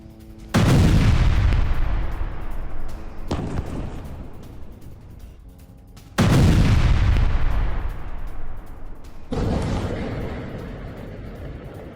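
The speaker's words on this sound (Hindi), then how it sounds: "आईडीएफ हमलों के बाद बम स्टोरेज में विस्फोट हुआ है" Explosions from strikes on a bomb storage site, as seen in news footage. Two heavy, loud booms roll out and decay, each followed by further bursts, with no speech over them.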